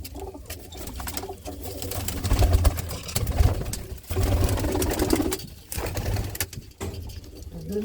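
Red Cheena pigeons shut in coops coo in low, throaty bursts throughout, close by, with a steady mechanical hum running underneath.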